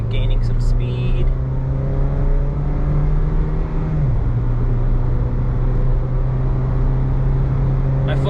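Import car accelerating on a straightaway at wide-open throttle, a loud steady engine drone with rising harmonics that shifts down in pitch briefly midway, heard close from inside the cabin.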